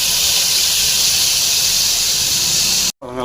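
Cumin tempering in hot oil poured over a herbal thuvaiyal, a steady loud hiss of sizzling that runs nearly unbroken before cutting off abruptly near the end.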